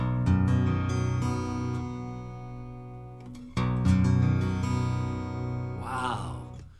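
Baritone guitar played as two long, sustained chords that ring out and slowly decay, deep and full, followed by a brief higher strummed flourish near the end; no voices.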